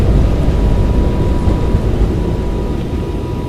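An airliner's jet engines roar loudly and steadily during the takeoff roll at Clark, a dense rumble that stays close and constant and slowly eases slightly.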